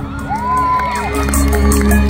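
An audience at a GMA Kapuso mall show in the Philippines cheers and whoops, a lively crowd roar with a sharp rising shout over it and scattered clapping, loud and close.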